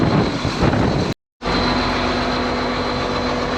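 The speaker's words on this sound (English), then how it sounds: "Dang, this wind sucks." Strong wind roars across a Kansas wheat field beside a Case IH machine, a loud, steady broadband rush close to the microphone, broken once by a brief dropout before resuming unchanged.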